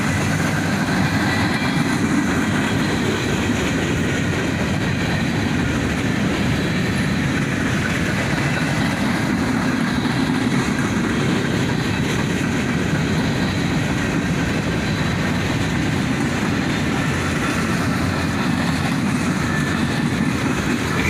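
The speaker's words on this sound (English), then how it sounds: "A nice manifest train in the bright sunlight" A CSX manifest freight train rolls past with a steady, loud rumble of wheels and cars, a continuous roar that holds throughout with no voices.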